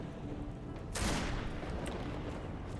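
A single loud burst of gunfire in the video game Risen 2 cracks out about a second in, with its echo trailing off over a quiet background.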